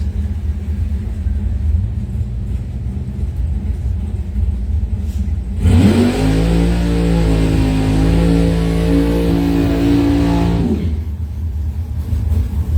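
A drag racing dragster's engine, Tom Clark's car at a 2021 round-three elimination event, bursts into a loud, close revving roar for about five seconds. It holds a steady, throaty drone over constant background rumble, then cuts off.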